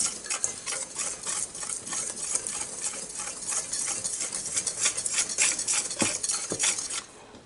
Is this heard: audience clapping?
no